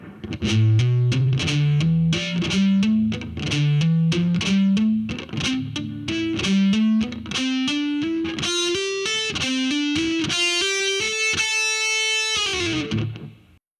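A slowed-down heavy metal lick on a distorted electric guitar, palm-muted notes picked one by one in a gradually ascending sequence, ending on a long ringing sustained note; loud, close and unaccompanied.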